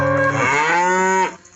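Cattle being let out of the barn give one long, loud, close moo with rich harmonics, sustained for over a second before it tails off.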